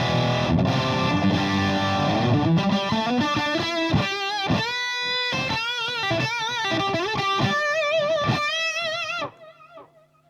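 Electric guitar played through a Fender Santa Ana overdrive pedal on voice B, giving a gritty driven tone; busy strummed chords give way to ringing single notes and riffs, then the sound cuts off abruptly near the end.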